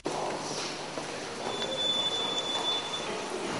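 A New York subway train rumbles along steadily from inside the car, with a thin high wheel squeal rising midway over the constant rolling noise.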